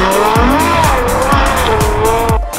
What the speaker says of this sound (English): With one here at LA Muscle, we already know how good it sounds.